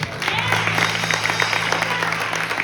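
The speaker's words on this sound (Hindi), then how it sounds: "चर्च में ताली बजा सकता है चर्च?" A church congregation claps during a sermon, giving a short burst of dense, steady applause. A low sustained hum sits underneath.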